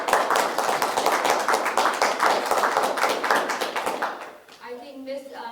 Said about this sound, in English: I think Chris deserves a round of applause